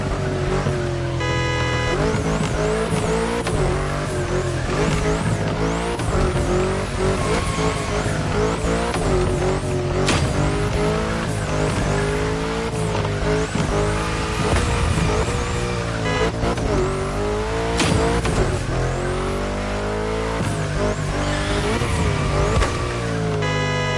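A car drifts through bends in The Crew Motor Fest, with tire squeal and a revving engine running loud and steady almost throughout, rising and falling as the throttle comes off and goes back on.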